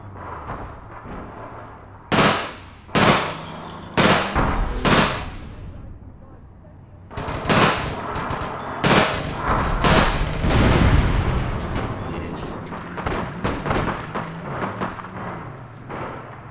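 Gunfire in the video game APB Reloaded rings out as sharp, loud bursts and single shots, first spaced apart and then in a dense rapid barrage, with voices of players talking in between.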